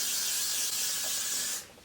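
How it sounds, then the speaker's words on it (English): Got To Be hairspray sprayed from a can all over hair, a steady close hiss running for about a second and a half before cutting off, with no talking. "So I'm going to use this Got To Be hairspray and just spray this kind of all over"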